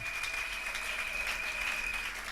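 A church congregation applauds in sustained, even clapping that fills the room, steady and fairly loud from start to finish.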